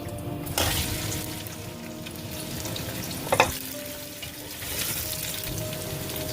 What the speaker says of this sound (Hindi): कुकिंग ऑयल गर्म हो चुका है, इसमें मैं प्याज डालूंगी।